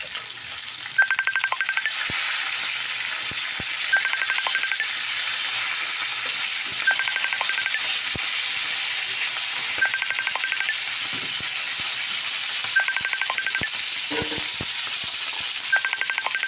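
Fish frying in a pan, a steady loud sizzle of hot oil running throughout, with faint utensil taps and repeated short high beeps over the top.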